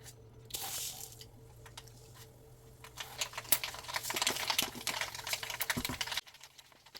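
Mustard seeds crackle and pop in hot oil in a pan as the base for a beef pickle. Dense, crisp spluttering bursts build over a steady sizzle, then cut off abruptly near the end, with no voices.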